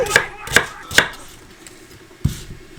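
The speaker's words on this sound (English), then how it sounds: "And there we have it. Our onions are chopped." Onions are chopped on a board in three quick knife strikes, then a pause before a fourth thud, crisp and close with no talk.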